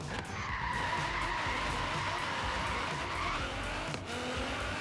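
In Forza Horizon 3, a car drifts with sustained tire squeal and skidding over a revving engine, the screech wavering as the car slides out of control.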